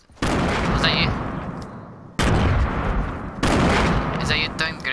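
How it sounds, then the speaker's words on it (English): Loud video-game gunfire and grenade blasts come in three dense bursts of rapid shots and booms, with brief gaps between them. "Is that you throwing grenades?"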